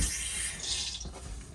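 Water running through RV plumbing as the pump starts during dewinterization, a steady rushing flow that swells briefly in the middle, heard close and alone.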